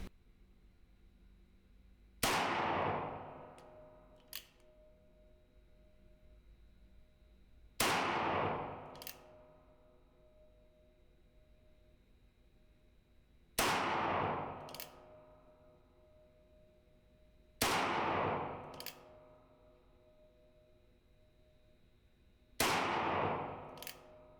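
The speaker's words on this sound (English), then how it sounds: "I'm gonna walk the camera up so you can see me shooting at the distance." Six separate gunshots fired at a target 15 yards away, each a sharp, loud crack with a ringing tail, spaced several seconds apart with quiet between.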